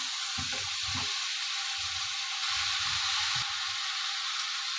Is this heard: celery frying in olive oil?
yes